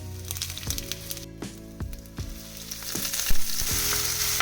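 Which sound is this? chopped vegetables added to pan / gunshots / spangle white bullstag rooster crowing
chopped vegetables added to pan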